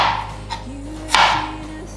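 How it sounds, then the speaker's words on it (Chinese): A knife slices a Chinese yam on a board. Two chopping knocks are heard close by, the second louder, with a faint tonal hum in the background. "接着切片"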